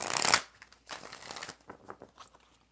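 Tarot cards being shuffled during a live reading: a quick, crisp riffle up close, then softer, scattered shuffling bursts and taps at a quiet level.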